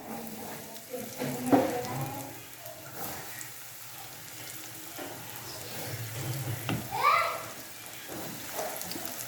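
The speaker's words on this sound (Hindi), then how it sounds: "ऑयल हमारा अच्छी तरह गर्म हो चुका है। अब हम इसमें चने डालेंगे और उनको फ्राई करेंगे।" Cornflour-coated chickpeas fry in hot oil with a soft, steady sizzle and bubbling, broken by a couple of louder splashes and crackles, with a voice speaking at times over the frying.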